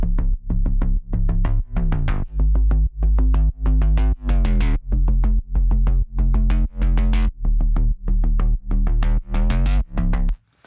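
A pop-style synth chord with overdrive and added low bass pulses in steady rhythmic stabs, and its filter cutoff opens toward the end so the tone grows brighter before it stops abruptly.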